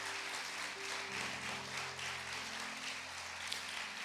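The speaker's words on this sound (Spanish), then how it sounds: "Dale fuerte el aplauso al Rey de Reyes y Señor de Señores." A church congregation claps steadily through a service while sustained keyboard or organ chords play underneath, the applause a dense, even wash for the whole stretch.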